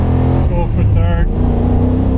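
A Lexus IS200 fitted with a 1UZ V8 engine pulls hard in third gear, a loud steady engine drone heard from inside the car, with someone talking briefly over it.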